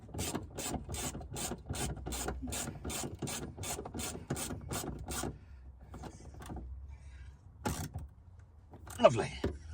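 Rapid ratchet wrench clicking as a bolt is tightened on a Ford Crown Victoria Police Interceptor, a steady burst of close mechanical clicks for about five seconds, then quieter fumbling and a couple of isolated clicks.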